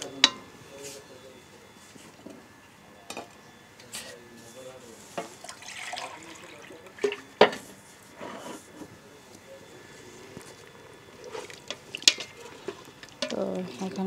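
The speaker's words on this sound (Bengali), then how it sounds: "এখানে পানি অ্যাড করছি" Water is poured into a rice cooker pot of boiler chicken curry, and the plate that held the spice paste is rinsed into it. Intermittent splashing and pot clatter run under a voice speaking throughout.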